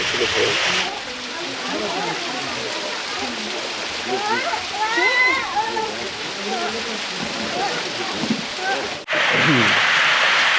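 Steady rushing water from a stream flowing into a waterfall in a valley in Erbil fills the whole clip, with someone speaking over the constant roar.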